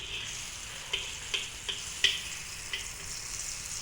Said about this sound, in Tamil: நான் கொஞ்சம் பட்டர் போட்டு தாளிக்கிறேன்